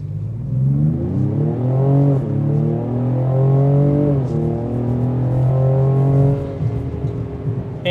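A 2026 Ford Explorer ST with 400 horsepower accelerates hard, its engine note climbing through the revs with a gear change partway, loud and close, then easing off near the end.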